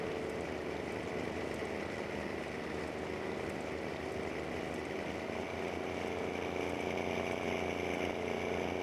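A Minneapolis Moline tractor engine in Farming Simulator runs steadily, a continuous low diesel drone with a rough, buzzy texture, loud and unbroken with no talk over it.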